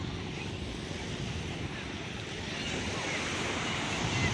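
Calm afternoon sea at low tide on a beach in Infanta, Quezon, a soft continuous wash of surf with steady wind rumbling on the microphone.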